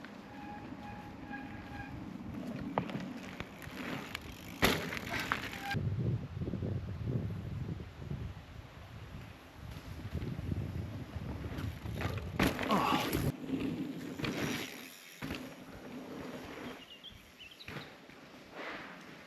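An electric mountain bike rolls along a trail, giving a steady rumbling, rattling ride noise with clicks and bumps throughout and occasional sharp knocks, while a voice talks over part of it.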